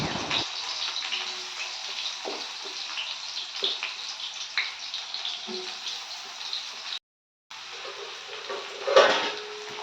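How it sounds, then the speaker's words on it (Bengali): Onion frying in hot oil in a pan gives a steady broadband sizzle with light scrapes and clinks, briefly cutting out before a louder burst near the end. "আর তেলের মধ্যে দিয়ে দেবো পেঁয়াজ"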